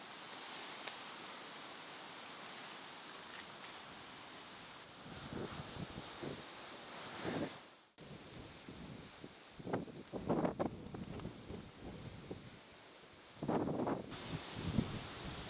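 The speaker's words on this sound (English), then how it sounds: "the wind was really picking up and coming in over the gorge wall" Strong wind gusts blowing in over a gorge wall in the Australian bush during a storm, a steady roar with buffeting microphone noise and louder surges in the second half.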